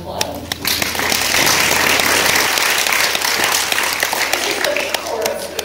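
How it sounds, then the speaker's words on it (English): A talk audience breaks into sustained applause, dense clapping that holds steady for several seconds and fills the room at a strong, even level after a speaker praises a participant's weight loss. "You can give Kathy a round of applause."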